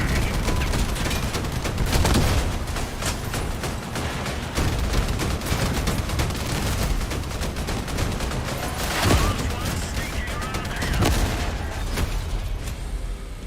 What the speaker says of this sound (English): That's some fine shooting, boys.